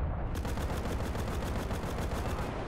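Rapid automatic gunfire from a rifle in the World War II shooter Enlisted, a dense, steady burst of shots repeating evenly throughout, loud and close, with no talking.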